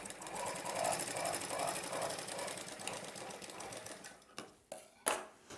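A sewing machine stitches the shoulder seam of a blouse in a quick, steady mechanical chatter for about four seconds, then stops, followed by a few faint clicks and handling knocks.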